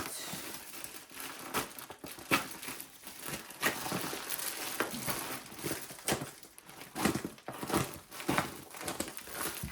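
LEGO set plastic packaging crinkles and crumples in close, quiet bursts as it is snipped and pulled open, the rustles coming irregularly with short gaps between them.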